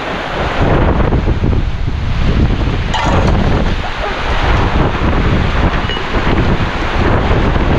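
Loud, steady typhoon wind roars with a rushing, rain-like hiss, blustering continuously and buffeting the microphone throughout.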